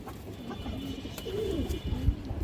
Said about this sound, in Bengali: আরও একটা জি আর্মি মাদি কবুতর মাশাআল্লাহ